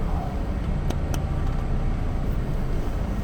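Steady road traffic rolls past in a continuous broadband rumble and hiss, with no gaps and no voices, close and fairly loud throughout.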